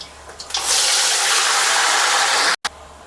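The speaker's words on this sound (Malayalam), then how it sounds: "ഇതിൽ ഇനി ആറ് ഗ്ലാസ് വെള്ളം അയക്കേണ്ടത്" Water pours in a steady, loud rushing stream into a pot of rice for beef biryani, starting after a few light taps and cutting off abruptly before resuming briefly.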